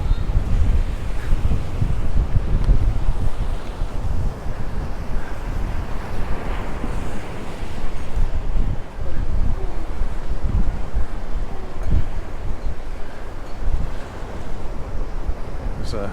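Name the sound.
wind and waves at Santa Ponsa, Mallorca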